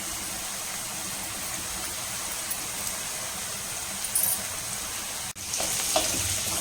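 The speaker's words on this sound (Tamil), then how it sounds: "இந்த வெங்காயம் நல்லா வதங்குது." Onions sauté in oil with a steady, close frying hiss. A brief stir scrapes near the end, there is a short drop-out, and then the sizzle comes back.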